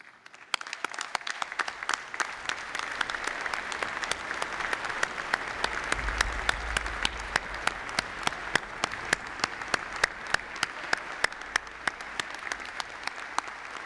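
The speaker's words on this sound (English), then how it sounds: "Will the graduating students please stand and join me in applauding your family and friends" Graduating students and audience applauding family and friends at a graduate programs recognition ceremony, a dense, sustained wash of crowd clapping with crisp individual claps throughout, steady and full for the whole stretch.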